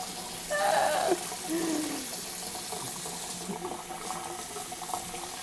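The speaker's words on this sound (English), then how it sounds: "we're gonna like try and rinse off all of the dye in hot water" Hot water runs from a tap while a tie-dyed bedsheet is rinsed under it, a continuous close splashing hiss with brief louder gurgles early on, otherwise steady and without talk.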